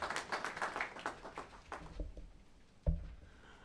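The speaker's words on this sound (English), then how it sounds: "Another round of applause for Dr. Mayenga." Applause from an audience at an examination results release ceremony, a patter of clapping that fades over the first two seconds, followed by a few isolated thumps.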